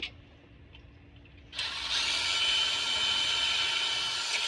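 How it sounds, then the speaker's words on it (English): A power drill bores holes in aluminum door trim, its high whine rising abruptly after a quiet start and holding steady and close for several seconds. "I drill these holes."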